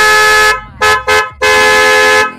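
A loud aftermarket XCL DB car horn blares in four bursts: a long blast, two short toots, then another long blast, very close and harsh.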